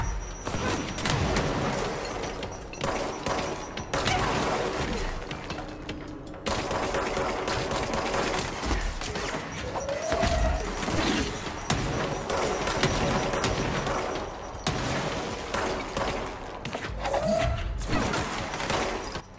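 Enemy gunfire and rocket blasts in Control: steady, rapid mechanical rattling of shots that run almost the whole time, with brief gaps and whooshing streaks, loud and close.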